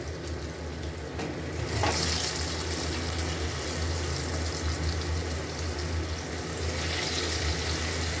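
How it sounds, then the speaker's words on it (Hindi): Chicken khadi pakoras frying in hot oil give a steady, fairly loud sizzle and crackle that runs the whole way through, with a brief brighter rush near the start and no talking. "इसी तरह से हम और भी डाल लेंगे और उनको भी फ्राई कर लेंगे।"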